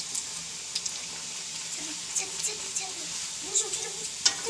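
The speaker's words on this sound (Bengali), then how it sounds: "আর এখানে এই যে ভাজা আরম্ভ করে দিয়েছি, এই যে কিছুটা ভেজে নিয়েছি" Luchi puffed flatbread frying in hot oil, with a soft, steady sizzle and occasional faint clinks and stirring sounds, fairly quiet, with a voice speaking over it.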